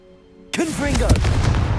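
A Confringo explosive spell cast in the Hogwarts Legacy video game bursts suddenly out of near silence as a single loud, sharp blast, then rolls into a sustained crackling rumble.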